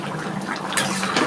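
Water poured into a pan of jackfruit and prawn curry (ichor chingri), a brief splashing rush of liquid hitting the hot pan, close and alone.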